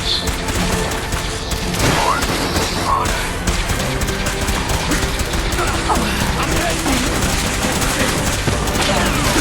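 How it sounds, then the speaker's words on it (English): Sustained gunfire in a Fallout video game battle between the Enclave and the Brotherhood of Steel, with dense overlapping bursts and booming impacts running continuously throughout, loud and busy, with a voice talking over the shooting. "They're shooting at me right now."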